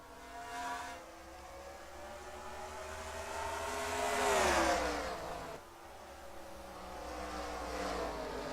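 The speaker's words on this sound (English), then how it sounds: "These guys still cannot get around these lap cars of Roger Ray and Dale Camel." Race cars circle an oval track while lapped cars hold them up, engines swelling into a loud passing roar midway before fading, with a steady engine drone throughout and no talk.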